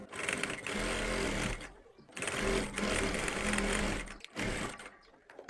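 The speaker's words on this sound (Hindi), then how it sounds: "तो हमने इसके ऊपर यहाँ से एक पैर की सिलाई लगानी है" Sewing machine stitching a seam along folded fabric for a dress, a steady close whirr running in bursts with brief pauses between, and a voice faintly under it.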